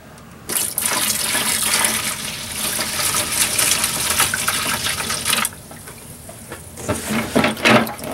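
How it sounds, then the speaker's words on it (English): Vinegar pours over pieces of copper and brass in a container, a steady splashing gush for about five seconds, then quieter trickles and a few brief splashes near the end, with no talking. "So I need to put in a little bit more vinegar."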